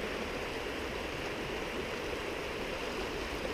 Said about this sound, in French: une petite cascade juste en face des racines et des pierres